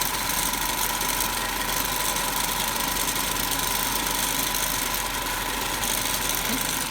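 Steady machine hum from a DC motor running at its rated 1500 rpm on a lab test bench, a continuous even drone with a tonal whine and broadband noise throughout, no talking.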